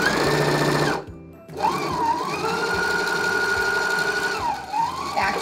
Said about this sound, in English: I'm going to be sewing with half inch seam allowance here, and I'm going to make sure I backstitch at the beginning and the end of my seam